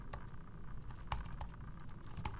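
Fingers typing on a computer keyboard, a quiet run of light, irregular key clicks with a few sharper taps.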